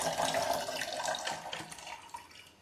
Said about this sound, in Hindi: देखो इतना पानी ले लिया, ये भी ज़्यादा है चाय के लिए